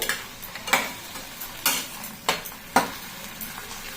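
Tomato, dried red chili and garlic fry gently in a pan on the gas, with a soft sizzle broken by several sharp spatula scrapes and stirs at uneven intervals.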